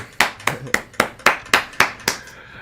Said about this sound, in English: When I clapped there, I can hear it clapping twice because I've got the echo cancellation off